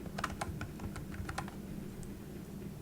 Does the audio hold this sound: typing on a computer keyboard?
yes